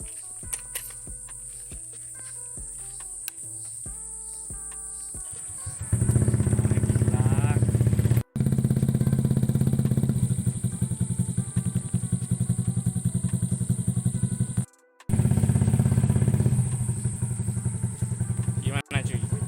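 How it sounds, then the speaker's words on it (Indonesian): Honda Vario 125/150 scooter fitted with a locally made DSM Racing aftermarket exhaust, idling close by; a steady low engine rumble kicks in after a quiet start and runs loud and continuous, broken by two brief dropouts. "Jadi sekarang gue tuh bakal cek sound ini knalpot DSM anjir, knalpot DSM lokalan"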